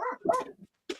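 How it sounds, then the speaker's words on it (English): A dog gives a few sharp barks, a close burst followed by a shorter bark after a brief pause, with no one talking over it. "What the fuck is he barking at?"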